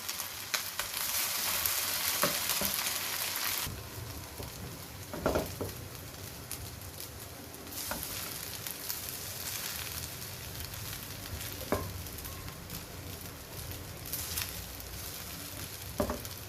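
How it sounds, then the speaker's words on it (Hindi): Chicken fajita rice with garam masala is stirred in a pan, a soft close sizzle broken by scattered scrapes and knocks of a spoon, with no talking. "अब इसको अच्छे से मिक्सिंग करते हैं इसकी।"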